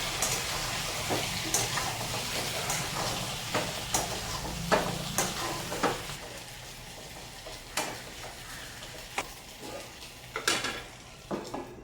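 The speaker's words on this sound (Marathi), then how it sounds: "हा मसाला तेलात घालायचा पैकी त्याला मिक्स करून घ्यायचं" Masala frying in hot oil in a pan for stuffed capsicum, stirred by hand: a low steady sizzle with scattered utensil scrapes and light clinks against the pan, fairly quiet and close, with no voices.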